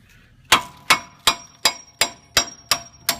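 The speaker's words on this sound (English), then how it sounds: "Just hit it with the hammer." Eight sharp metallic clangs evenly spaced as a hammer knocks wheel studs out of a front wheel hub assembly, each strike ringing briefly and loud, with no talking.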